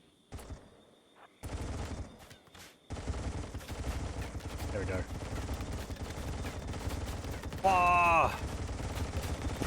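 Bursts of gunfire in the video game RimWorld, with an ork camp from Warhammer 40,000 as the setting, moderately loud and irregular, mixed with game effects while someone talks and exclaims over it.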